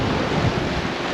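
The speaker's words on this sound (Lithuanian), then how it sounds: "Vėjas labai pučia" Strong wind roars over open water aboard a sailboat, a brief dense rushing noise buffeting close to the microphone.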